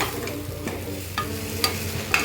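Moringa leaf pasta with spring onion is tossed and stirred in a hot pan, giving a steady low sizzle broken by a few sharp scraping clicks of the spoon against the pan, close and alone with no voices.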